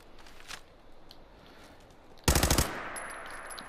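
A short automatic burst of gunfire from a rifle in Fallout 4, loud and close, rattling for about a third of a second after a quiet stretch of faint game ambience, then a lingering echo tail.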